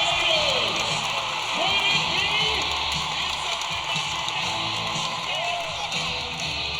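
A gymnastics meet crowd at Florida hosting Arkansas cheers loudly and steadily after a routine, with whoops and shouts rising out of a dense, continuous roar.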